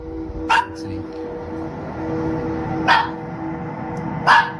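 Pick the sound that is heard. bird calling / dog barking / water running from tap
dog barking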